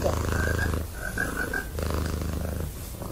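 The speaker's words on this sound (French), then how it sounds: "Donc ça, c'est le ronronnement." A domestic cat purrs close up with a steady, low rhythmic rumble, softer breathy pulses alternating in a slow in-and-out cycle.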